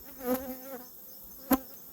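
Honey bees at an open hive during an inspection, with two brief close buzzing passes that swell and fade against a quiet background.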